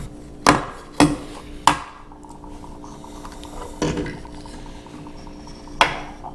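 Metal parts of a bored-out Dodge Ram 1500 throttle body are handled and flipped on a hard surface, giving several sharp clanks: three in quick succession, then two more spaced apart, close by over a faint hum.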